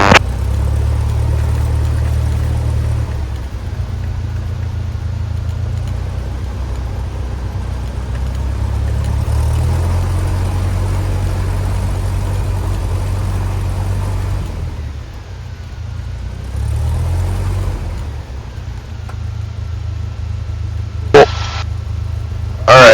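A Cessna 172's piston engine idles steadily before shutdown, a loud low droning rumble that holds throughout with slight shifts in pitch and a couple of brief clicks near the end.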